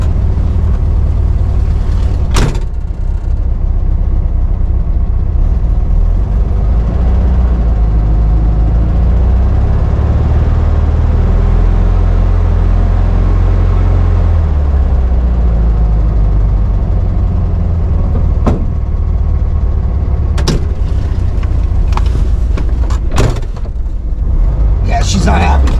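A 1972 VW Karmann Ghia engine idles roughly with a low, uneven, wavering rumble that surges and sags, suspected idle air cutoff valve fault, with a few sharp clunks and a voice talking over it.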